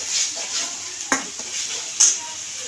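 Pav bhaji ingredients with ginger-garlic paste and chutney stirred in a sizzling pan, a steady close frying hiss broken by two sharp spoon scrapes against the pan.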